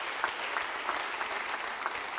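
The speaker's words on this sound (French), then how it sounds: "On peut applaudir à nouveau Jean-François Tixier." Applause for Jean-François Tixier at a business awards ceremony in Creuse, a faint, even wash of crowd clapping heard from a distance, steady throughout with a few slightly sharper claps standing out.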